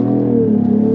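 A 2025 Cadillac CT5-V accelerating in track mode, its engine a steady loud droning roar heard from inside the cabin, with the pitch holding nearly level through the brief burst.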